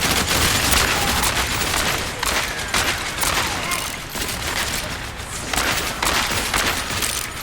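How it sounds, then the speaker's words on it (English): Dense, continuous game gunfire and explosions from an Overwatch match, with McCree's revolver shots and reloads buried in a loud, busy battle mix that stays steady throughout. "you fire 3 shots, just reload. 3 shots, reload."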